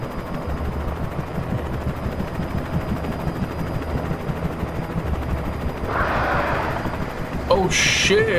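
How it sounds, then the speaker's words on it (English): A Black Hawk helicopter in the video game Alan Wake swells in over steady gunfire and low rumble, growing louder near the end of the stretch. "Helicopter is a problem."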